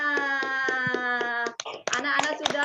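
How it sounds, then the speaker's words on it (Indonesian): Schoolchildren in a classroom clap their hands in a quick, steady rhythm, with sustained voices chanting or calling out over the claps before the pattern breaks into looser, scattered clapping. "Ya, tepuk tangan untuk kita semua."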